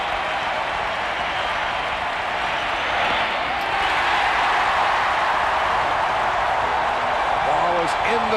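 A packed baseball crowd at the 1991 World Series Game 7, Braves at Twins, keeps up a loud, continuous roar with clapping that swells slightly midway and carries on without a break.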